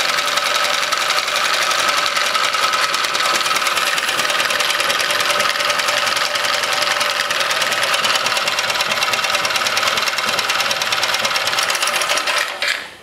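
Small engine running with its exhaust completely blocked, a loud rapid buzzing knock held steady for about twelve seconds before cutting out abruptly.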